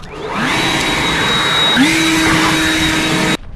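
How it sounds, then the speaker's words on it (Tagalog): A leaf blower clears loose stones from underneath a vehicle in Edmonton, Alberta, a loud steady whining roar that holds for several seconds, shifts pitch slightly midway, then cuts off abruptly. "I-blower ko lang yung ilalim para matanggal yung mga bato-bato"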